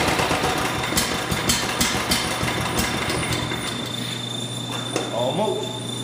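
A Briggs & Stratton engine fitted with a vapor carburetor chugs at a steady idle up close, its low, even drone holding throughout.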